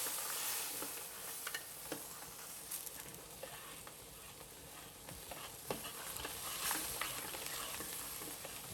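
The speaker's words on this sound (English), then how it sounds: "you want to spread it around evenly and give it a stir" Lobster sauce stirred in a pan, a steady soft sizzle with faint scraping and light ticks of the utensil running throughout at a moderate, even level.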